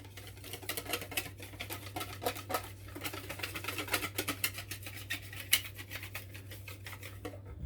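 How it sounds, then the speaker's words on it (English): A whisk beats Dutch baby pancake batter in a bowl, making a rapid, continuous patter of light clicks and taps against the bowl for several seconds, close up. "I'm just mixing it with a whisk until it's not lumpy anymore."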